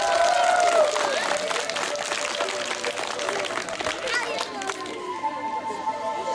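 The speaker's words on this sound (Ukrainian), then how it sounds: "Оплески, будь ласка!" Applause and crowd noise at a school graduation as balloons are released, clapping mixed with children's voices and cheering, a sustained tone running underneath and fading toward the end.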